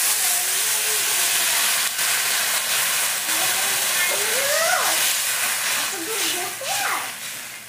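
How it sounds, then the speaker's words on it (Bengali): Catla fish curry broth with green banana comes to a rolling boil in a pot, giving a steady loud hiss of bubbling and steam with faint squeaky utensil sounds over it. "দেখেন ঝোলটা কি সুন্দরভাবে ফুটে উঠছে।"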